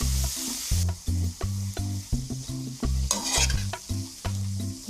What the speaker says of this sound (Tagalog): Tapos po hahalo-haloin lang natin to para maluto ang mga gulay.